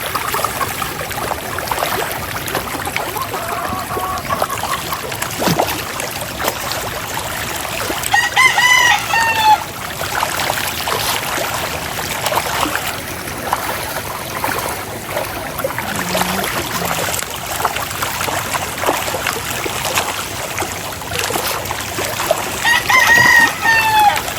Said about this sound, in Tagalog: ito mga manok ay nalapit dito sa akin